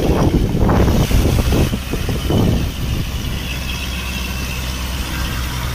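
A Kubota MU4501 tractor works through mud with a loud, close, rumbling diesel engine that surges in bursts early on, then settles into a steadier idle-like drone.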